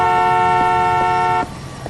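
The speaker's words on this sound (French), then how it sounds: "doucement avec le klaxon" A car horn blares in one loud, sustained honk lasting about a second and a half, then cuts off, leaving quiet street background.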